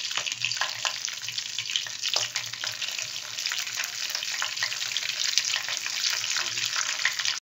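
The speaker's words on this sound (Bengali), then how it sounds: "দেখো কারি পাতা, মাস্টার্ড সিড বা সর্ষে আর এই শুকনো লঙ্কা দেখো ভাজা ভাজা হয়ে গেছে" Curry leaves, mustard seeds and torn dried chillies fry in oil for a pineapple fish curry, giving a close, steady, bright sizzle with fine crackles and no talking.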